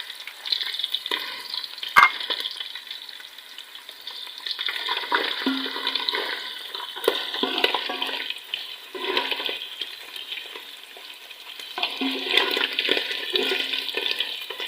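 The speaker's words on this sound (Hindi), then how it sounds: "इसमें हम डाल देंगे चिकन। एक से 2 मिनट चिकन को फ्राई करने में लगेगा।" Chicken sizzles and fries in a pan with garlic, a steady crackling hiss broken by irregular stirring scrapes and spatters, close up with no talking.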